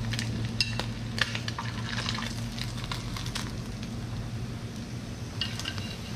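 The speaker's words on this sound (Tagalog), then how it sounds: "Ayan, prito pa tayo ulit." Dried fish (daing) frying in a pan, a steady close sizzle with occasional stirring and scraping noises, no talking.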